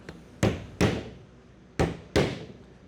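Four sharp knocks land in two pairs as a door handle fitted with snipped-off screws is tapped against wood to mark drilling spots, each a crisp close impact with a short ringing decay, no talk.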